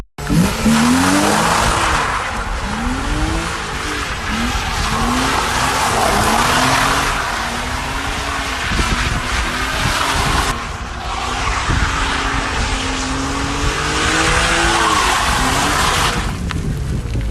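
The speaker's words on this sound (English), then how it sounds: "So I have some videos of me drifting this car." A BMW E36 engine revs hard while tires squeal in long repeated drifting skids, loud and continuous, with the motor rising and falling throughout.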